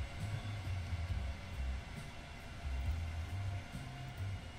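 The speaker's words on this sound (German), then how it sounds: "jetzt stehen hier zwar viele Züge, jetzt lasse ich die mal kurz fahren" Trains rolling through a busy main station in the video game Transport Fever, a steady low rumble with droning hums that swell and fade, no talking.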